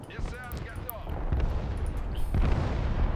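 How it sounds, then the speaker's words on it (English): Artillery shells striking units in the video game Broken Arrow, a steady roll of booming impacts and crackling blasts layered over dense battle noise, with a voice talking over it. "Oh yeah, definitely getting hit by artillery."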